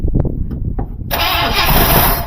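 Starter cranking on a 1974 Buick Riviera 455 V8 gives a few close, uneven turns, then the engine catches and runs loud and steady.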